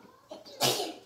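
A single sharp sneeze bursts out close by after a brief soft intake of breath, loud and abrupt, then fades.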